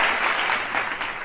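A short burst of lively applause from a crowd, steady clapping throughout with no voices.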